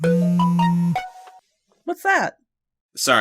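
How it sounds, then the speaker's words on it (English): A phone notification chime, a short run of bright ringing tones, followed by a person talking. "I forgot to put my phone on silent."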